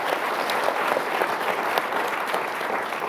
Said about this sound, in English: Tana Berry, I would love to give her a round of applause for her Herculean effort.